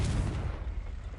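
A Confringo blasting spell explodes in Hogwarts Legacy as a deep, rumbling boom that rolls on for about a second, loud and close, with no speech.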